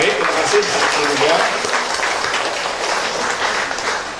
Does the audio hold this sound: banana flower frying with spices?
no